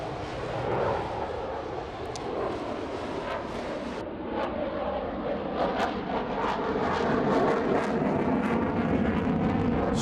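A fixed-wing display aircraft roars through airshow manoeuvres at Farnborough, a loud continuous engine rumble and jet roar that swells and shifts as it pulls up, heard alone without talk.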